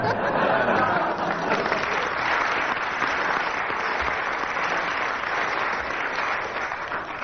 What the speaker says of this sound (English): And with that spontaneous burst of applause from the audience, Graeme, you win that round.